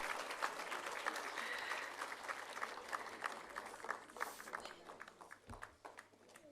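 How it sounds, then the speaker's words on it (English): Steady applause from a crowd at a government plan launch event, dense clapping throughout at moderate distance, with a faint voice surfacing briefly. "Another round of applause for Mrs. Imalwa and Her Excellency."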